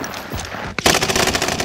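Rapid automatic gunfire from Call of Duty Warzone 2.0 erupts after a brief lull, a sustained loud burst of machine gun shots close by with no talking.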